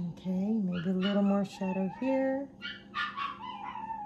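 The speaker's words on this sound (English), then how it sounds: "Sorry about the howling dog." A dog howls and whimpers in the background, its drawn-out, wavering cries rising and falling over several seconds while a person talks quietly nearby during a painting session.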